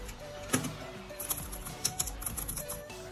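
Quiet typing on a Logitech K380 keyboard gives soft, muted key clicks in irregular bursts, close by and faint over a low background hum.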